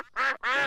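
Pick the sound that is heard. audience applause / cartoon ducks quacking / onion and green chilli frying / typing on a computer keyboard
cartoon ducks quacking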